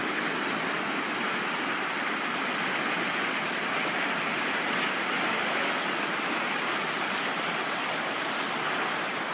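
Powerful floodwater rushing during a natural disaster, a dense, continuous roar of churning water that stays steady and loud throughout, with no voices.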